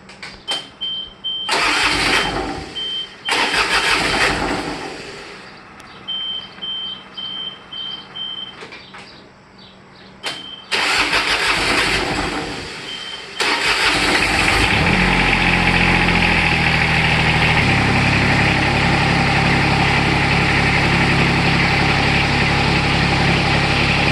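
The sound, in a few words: diesel lawnmower engine starting and idling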